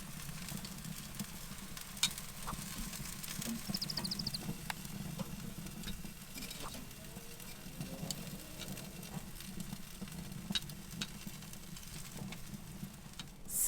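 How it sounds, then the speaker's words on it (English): Quiet, steady sizzling of chicken wings cooking on an Oklahoma Joe's offset smoker grill, with soft crackles and pops over a low background hum. "I hear some sizzle"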